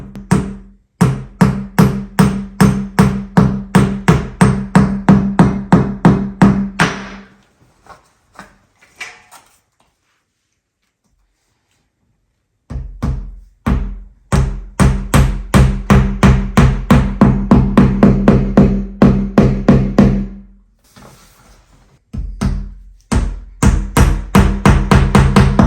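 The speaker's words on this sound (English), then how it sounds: "We're going to hammer it." Wall anchors for a frameless shower door are hammered into tiled wall holes, with rapid, sharp, loud hammer blows in long runs separated by short pauses.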